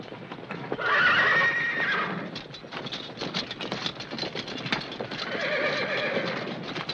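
Several horses whinny loudly, with a second neigh later, over steady clip-clopping hooves moving about a farm during a 1930s Kentucky round-up.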